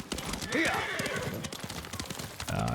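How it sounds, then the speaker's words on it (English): In the Ghost of Tsushima video game, a horse whinnies and gallops, quick clip-clop hoofbeats under a rising neigh, with someone talking over it. "I'll call the horse back."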